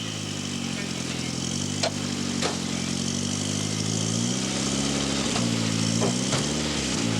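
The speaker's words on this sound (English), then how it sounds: "the crew got the car to fire again." A 1994 rally car engine, restarted beside the stage after stalling, runs loud and close with a steady mid-pitched drone that rises and falls in several revs.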